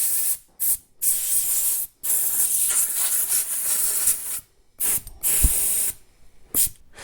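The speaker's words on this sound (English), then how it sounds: "I'm just going to use a standard screwdriver and a bit of compressed air, and we will clean this debris out of here" Compressed air blasts debris out of a damaged chainsaw in loud, hissing bursts of varying length, separated by short pauses, close up with no talking.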